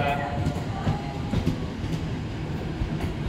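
A Jayakarta passenger train rolls through a busy Jakarta station, its steady rumble and rail noise continuous and fairly close, with faint voices mixed in.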